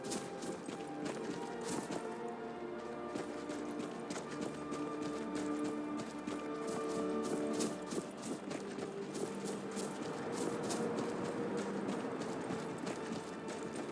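Horse hooves in Skyrim clip-clop in a rapid, even running rhythm, moderately close and continuous, layered over the game's ambient music and background tones.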